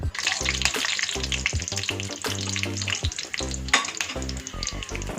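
Peanuts fry in oil for lemon rice, making a bright, crackling sizzle close by. It is laid over rhythmic background music with low, steady tones.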